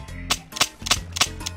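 Five sharp, evenly spaced shots from an ancient flintlock-style gun in Minecraft, each a bright crack about a third of a second apart, loud and close with a low hum underneath.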